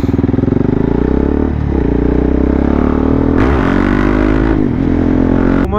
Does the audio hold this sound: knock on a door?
no